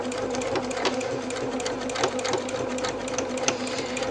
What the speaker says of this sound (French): on coud à 1 cm